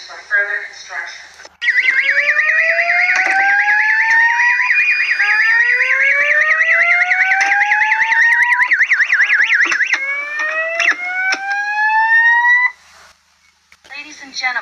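A fire alarm siren sounds during a fire drill in the Avatar World video game, rising and wavering over several overlapping tones. It stays loud and continuous for about eleven seconds, then cuts off abruptly, with brief sounds before and after.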